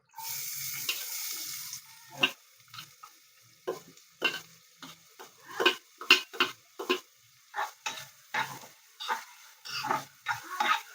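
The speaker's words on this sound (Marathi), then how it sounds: "कांदा चांगला परतून घ्यायचा आहे आपल्याला, लालसर करून." Onion sizzles in hot oil in a pot as it is stirred, with a brief steady hiss at the start followed by a series of short, scraping, sizzling bursts at an irregular rhythm, fairly faint and close.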